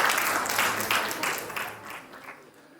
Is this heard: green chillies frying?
no